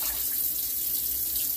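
Water running steadily from a tap into a container to fill it for watering rooted coleus cuttings, a loud, close, continuous splashing rush with no speech over it.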